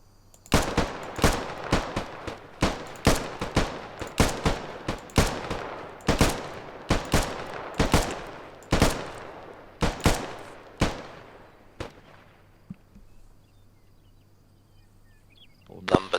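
Ten rapid rifle shots fired from the prone position at a 300-meter range during infantry training drill, sharp loud cracks in a steady fast rhythm with brief echoes, ending in quiet range ambience.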